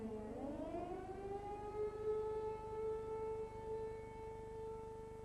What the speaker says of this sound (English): the air raid siren is wailing again